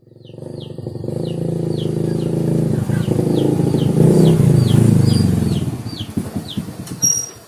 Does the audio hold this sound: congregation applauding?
no